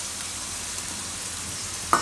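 Red capsicum goes into a hot pan with partly cooked carrots and green beans for paneer jalfrezi, giving a steady, soft hiss of frying and a brief clatter near the end.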